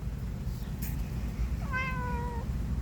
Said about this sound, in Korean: 너 야옹야옹 너무 잘해